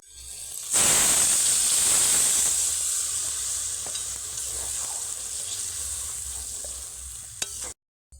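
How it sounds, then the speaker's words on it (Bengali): Brinjal and potato pieces stirred and fried in spices in a pan for a begun curry, a loud steady sizzle with a bright steam hiss that swells at the start and holds on, scraped by a spoon, with no talk. "বেগুনটাকে কিন্তু বেশি সময় কষাবো না এক মিনিট মতো নেড়ে জল দিয়ে দেব"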